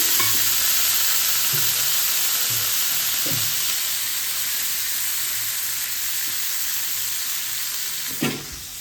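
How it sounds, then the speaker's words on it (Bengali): Capsicum and peas frying with garlic in butter in a kadai, a loud steady sizzle with occasional stirring scrapes and clinks, no voices. "এখন এই যে সব ভেজিটেবলসগুলো কেটে রেখেছি ক্যাপসিকাম আর এটা হচ্ছে কড়াইশুটি একসাথে দিয়ে দিলাম"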